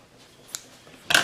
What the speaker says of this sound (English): I'm just going to cut this across with my scissors